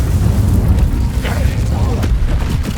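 In a magic-themed adventure video game, an Incendio fire spell is cast with a deep, rumbling fiery boom that fills the whole short moment, loud and continuous without a clear break.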